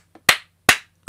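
Three sharp, isolated claps in a slow, even rhythm, close and loud against silence.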